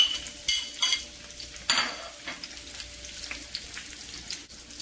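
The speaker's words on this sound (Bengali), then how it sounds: "তেল দিয়ে দিয়েছি, পেঁয়াজ কুচি কাঁচামরিচ দিয়ে দেব" Chopped onion and green chilies frying in hot oil in a pan, a steady close sizzle with scraping stirs and clinks of a utensil against the pan at intervals.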